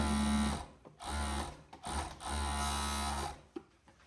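A sewing machine stitches a shirt seam, running in several loud, steady bursts of mechanical whirring and humming, separated by brief stops as the fabric is repositioned, with no talk.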